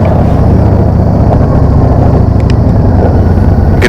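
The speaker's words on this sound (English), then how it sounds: "Man, this feels good. I like the engine sound." A 2016 Victory Gunner 1731cc motorcycle being ridden in pouring rain, with its engine giving a loud, close, continuous low-pitched rumble and heavy wind buffeting throughout.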